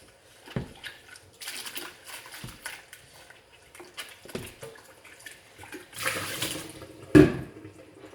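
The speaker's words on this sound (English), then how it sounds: "Rinse my pitcher out." Water splashes and gurgles intermittently as a pitcher is rinsed under a running tap, with clinks and sloshes in short bursts.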